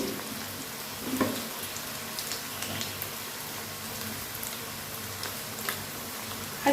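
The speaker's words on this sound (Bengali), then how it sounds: "একসাথে ভাজা যাবে কারণ আমি কড়াতে অনেকটাই তেল দিয়েছি" Continuous bubbling and crackling of chicken pakoras deep frying in plenty of hot oil, a steady close hiss with occasional louder pops.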